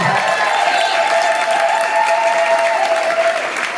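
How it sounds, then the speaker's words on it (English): Loud, sustained audience applause at a social evening gathering, dense continuous clapping with a little crowd noise throughout. "Huge round of applause"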